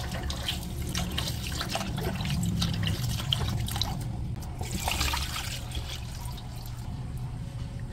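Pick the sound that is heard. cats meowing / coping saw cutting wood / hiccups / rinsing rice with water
rinsing rice with water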